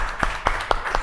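A small audience at a school quiz show claps for a contestant, giving four or five evenly spaced, close hand claps within a second over a low room hum.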